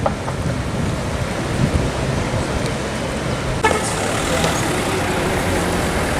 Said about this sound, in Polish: Fale są dość srogie